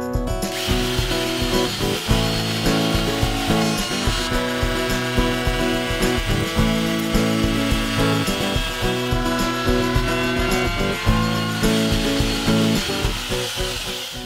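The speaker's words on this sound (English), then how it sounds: "I'll put a chamfer bit in the router just to clean up this bottom edge" Router fitted with a chamfer bit trimming the bottom edge of a wooden clamp rack, a loud steady whine with rhythmic bumps as the cut moves along, close and alone.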